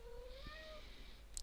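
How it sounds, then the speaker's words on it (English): A house cat meows faintly in the background of a quiet room, giving one drawn-out, wavering cry that fades, followed by a brief soft chirp. "And you can hear my cat in the background."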